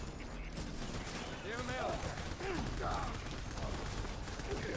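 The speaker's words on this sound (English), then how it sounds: "Put plenty of rounds into a scoring again, guys." Gunfire in the video game Death Stranding: a dense, steady stream of rapid shots and mechanical clatter fills the scene, with someone talking over it.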